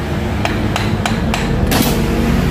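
Soft wooden mallet tapping on a 2014 Hyundai Accent electric power steering unit during repair, four evenly spaced sharp knocks then a fifth, over a steady low workshop hum.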